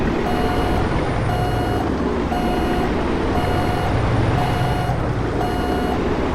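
Steady electronic reversing beeps repeat about once a second from a truck backing a trailer into a parking spot in American Truck Simulator, sounding over a constant low engine rumble with no talk.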